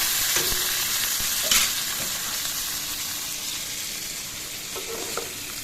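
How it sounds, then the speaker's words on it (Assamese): Freshwater fish frying in a pan in a home kitchen, a dense, steady sizzle of hot oil close up, with a few faint clinks of stirring and no talking. "এইফালে গৰৈ মাছকেইটাও ফ্ৰাই হ'বলৈ দি দিছোঁ"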